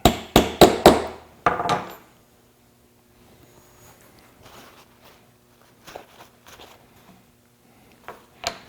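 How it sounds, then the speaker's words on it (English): A fastener hammered home to recess it in a wooden three-way miter joint, four quick loud blows followed by a fifth, then quiet shuffling and light handling taps. "So I'm going to drive that home, recess it."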